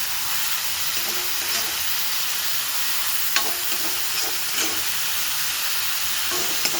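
Steady loud sizzling of boiled lentils frying in a pan with kasuri methi and tomatoes, with occasional soft stirring clicks, close up and continuous with no talking.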